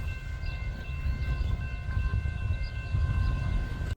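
A CSX freight train rumbles past close by, a steady heavy roar of wheels on rails with a sustained horn-like tone running through it.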